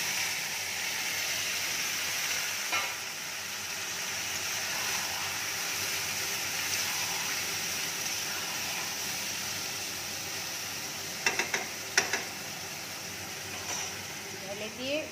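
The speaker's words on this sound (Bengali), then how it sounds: "পেঁয়াজের কালারটা যখন চেঞ্জ হয়ে যাবে, দেখতে চেঞ্জ হয়ে গেছে, তখনই আমি এই মেখে রাখা মিশ্রণটা ঢেলে দিচ্ছি।" Marinated fish mixture poured into a pan of browned frying onions for Bengali fish bhapa, giving a steady hissing sizzle throughout with a few brief clatters near the end and no talk.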